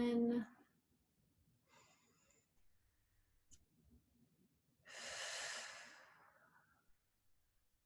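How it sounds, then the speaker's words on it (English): Slow deep breaths during a closing movement class: a soft drawn-out inhale, a long quiet pause, then a fuller, breathy exhale around the middle, all close and gentle against near silence. "Inhaling and exhaling."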